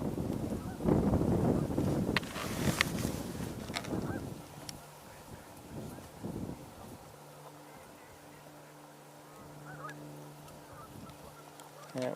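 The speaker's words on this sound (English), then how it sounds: "primarily we're hearing the geese" A flock of Canada geese honks repeatedly, loud and clamorous at first, then fading to scattered calls in the distance.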